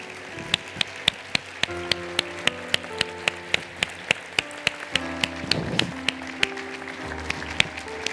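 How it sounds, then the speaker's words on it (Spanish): A church congregation applauds, giving steady clapping under a repeating rhythmic tapping and sustained musical tones, with no voices heard. "Si tú puedes darles un aplauso por el trabajo que ellos hacen."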